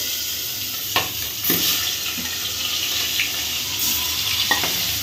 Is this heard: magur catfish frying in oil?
yes